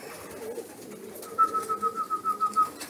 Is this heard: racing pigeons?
yes